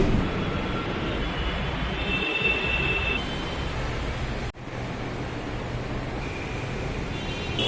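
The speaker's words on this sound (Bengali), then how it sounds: "ওই ট্রেনটাই আসবে এবার" A Kolkata metro train pulls into the station, a steady loud rumble of wheels on rail with faint high squeals from the wheels, a brief dip midway, then continuing rolling noise.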